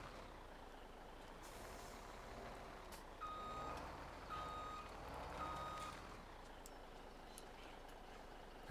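A truck's reversing alarm in Farming Simulator 17, three faint evenly spaced beeps over a low steady engine rumble, with no talk.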